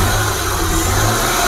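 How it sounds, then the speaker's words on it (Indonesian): Car engine held under steady throttle at about 5000 RPM during a battery-charging check, a loud, close, constant roar with no pauses. "Digas kontan terus sampai RPM 5000"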